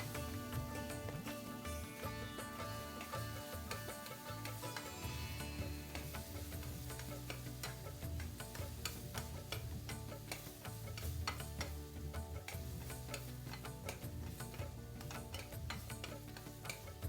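Mashed banana being stirred steadily in a hot pan for prasad-style semolina sheera, with a continuous scraping, sizzling stir running evenly throughout and no talking.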